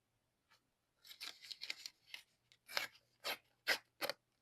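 A 12-inch strip of paper is torn off in a series of short, crisp ripping and scratching bursts, close and fairly quiet, separated by brief silences.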